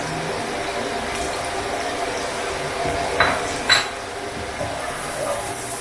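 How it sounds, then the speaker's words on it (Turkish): Peppers sautéing with onions in a pan, a soft steady sizzle with a few utensil clinks and stirring scrapes, close and moderately loud, with no talk over it. "Biberlerimi de hemen birazcık böyle kavuracağım"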